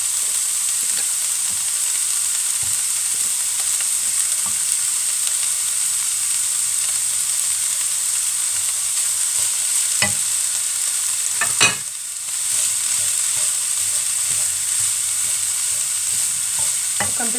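Coarsely grated carrot fries in a pan with a steady loud sizzle and hiss, broken by occasional scraping stirs of a spoon, with no talking.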